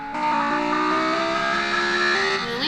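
A car engine runs with a steady, tonal drone whose pitch rises and shifts slightly, continuous and fairly close, with no talking.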